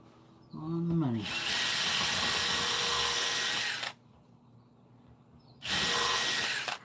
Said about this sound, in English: Pre-drill the corners so they don't break